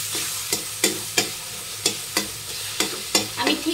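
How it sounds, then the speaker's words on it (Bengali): A spatula beats and stirs taro greens (kochu shak) cooking with prawns in a pan, a sharp knock landing about every third of a second over a steady low sizzle, close and alone. "আমি ঠিক এইভাবে বাড়ি নিয়ে মেরে জলটাকে শুকানোর চেষ্টা করছি।"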